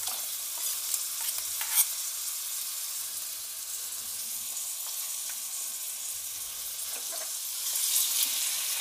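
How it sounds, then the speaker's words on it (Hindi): Ginger-garlic paste sizzles and fries in a hot pan while being stirred for a Punjabi chole puri recipe, a steady bright crackle with occasional scraping stirs, close and continuous with no talking. "हुण अदरक लसण दा पेस्ट जिहड़ा कुटिया आपां इह पावांगे विच।"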